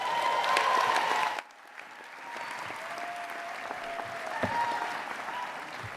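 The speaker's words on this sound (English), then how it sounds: "that was a lot with you guys clapping for me before I got to the podium" An audience applauds at a graduate hooding ceremony, with dense loud clapping that cuts off sharply after a second or so, leaving quieter room sound and a few scattered claps.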